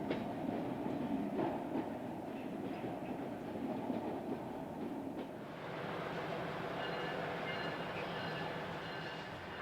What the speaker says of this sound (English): We'll make a quick chase of the train before returning to the J.